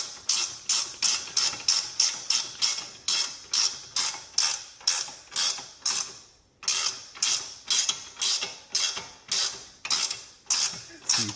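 A ratchet wrench tightens a 19 mm nut on a Porsche Cayman 987 adjustable toe arm, giving a long series of even, crisp clicking strokes with a short pause midway.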